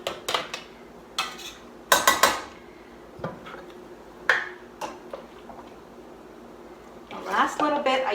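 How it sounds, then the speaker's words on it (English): Sliced cucumbers and brine for bread and butter pickles are scooped into glass canning jars, giving scattered close clinks and knocks at irregular intervals, with a burst of clattering near the end and quiet room tone between. "So I'm going to go ahead and start filling up these jars."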